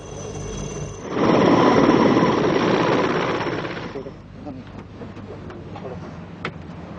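A military helicopter's rotor thrum, from the 1999 Kargil war in Kashmir, swells loudly for a few seconds, then fades into lighter background rumble and clatter.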